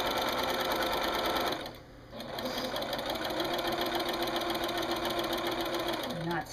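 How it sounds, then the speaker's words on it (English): A sewing machine stitching binding onto a quilt runs steadily and close with a fast mechanical chatter, pausing briefly before resuming, while a person speaks over it. "And you stitch right over to it."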